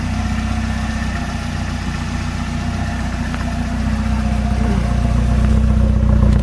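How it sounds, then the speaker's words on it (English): A Volvo 240 fitted with a custom exhaust burbles at idle up close, a low, continuous rumble that swells slightly louder toward the end, with no talking. "This is a very, very good sounding exhaust"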